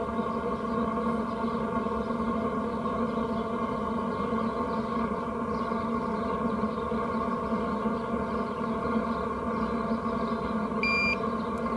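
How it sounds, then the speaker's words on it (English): An alarm sounds near the exhaust of a running Hcalory diesel heater outdoors as a steady, sustained electronic tone layered over the heater's constant hum, with a brief beep near the end and no talking. "now we got alarms going off"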